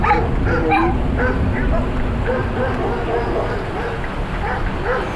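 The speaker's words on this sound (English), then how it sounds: "There's dogs barking out." Dogs barking and yipping outdoors, a little distant, repeated short yaps scattered through a steady background hum with some whimpering.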